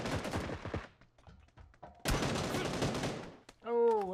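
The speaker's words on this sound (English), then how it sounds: "I get shot from behind." Gunfire bursts in the video game PUBG New State, rapid loud shots near the start and a second dense burst midway, with voice-like sounds and quieter game noise between.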